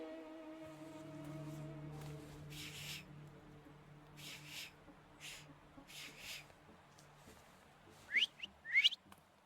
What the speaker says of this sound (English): have you mastered whistling?